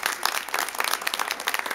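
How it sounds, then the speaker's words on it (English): Brief burst of applause from a small city council meeting audience, a few dozen hands clapping steadily at moderate volume with a faint voice underneath. "So one more round of applause."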